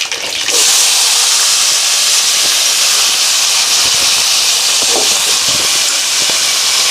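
Raw plantain pieces drop into hot oil already holding tempering seeds and broken dried red chillies, setting off a loud, steady sizzling hiss that starts abruptly and holds strong throughout.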